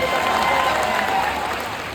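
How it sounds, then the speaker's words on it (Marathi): Loud, sustained applause from a crowd at a farmers' organization rally, dense and steady for the whole stretch and slightly fading toward the end. "एकदा जोरदार टाळ्या झाल्या पाहिजे तुमच्यासाठी."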